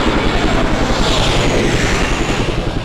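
A helicopter in the zombie survival game Resident Evil Survivor, a loud, steady engine and rotor roar filling the whole clip with a constant broadband wash and no voices.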